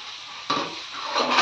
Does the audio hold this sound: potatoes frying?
yes